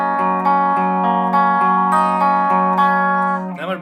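Electric guitar playing a song's riff in a punk style, a loud distorted chord strummed in steady repeated eighth-note chugs, ending with a quick slide.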